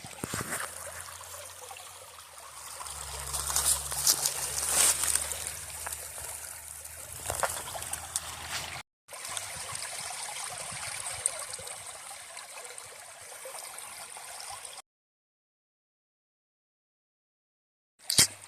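Steady rushing and trickling of a creek flowing over rocks at a trail crossing on the Ozark Trail, fairly close, with a brief dropout before the sound cuts to silence near the end.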